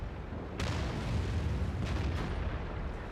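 A tank cannon in World of Tanks, with the WZ-132 light tank in play, booms amid a dense battle rumble, followed by further heavy reports over continuous low-end noise.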